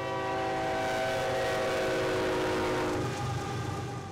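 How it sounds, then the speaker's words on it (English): A train passes near a railroad crossing with its horn blaring a loud sustained multi-tone chord over the rumble of the cars, the horn fading near the end while the rolling continues. "a train like this struck a tractor trailer near Bubenzer's field last year."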